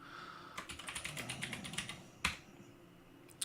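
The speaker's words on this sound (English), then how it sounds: "So you can move around with arrow keys" Rapid, close taps on a computer keyboard's arrow keys while moving around a Linux text editor in a terminal, a quick run of clicks followed by one louder keystroke, with no talking.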